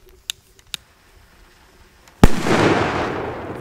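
A Big Bang 5G firecracker, a Polish banger, going off: two faint clicks, then one sharp, loud close blast with a crackling, hissing tail that fades.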